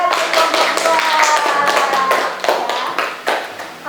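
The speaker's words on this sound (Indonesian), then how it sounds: "Tepuk tangan untuk Tiara." A classroom of students claps together in a dense, steady round of applause, close and lively, with children's voices mixed in and the clapping tapering off toward the end.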